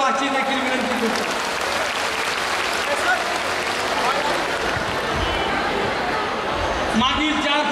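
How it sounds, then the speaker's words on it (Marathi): Sustained crowd applause welcoming Deputy Chief Minister Ajit Pawar at a Jan Sanman Yatra rally in Talegaon Dabhade, dense and loud, continuing steadily with a voice heard briefly near the end. "मी माझ्या माय भगिनींना दादांचं टाळ्या वाजून अभिनंदन करावं, त्यांचं स्वागत करावं अशी देखील विनंती करतो."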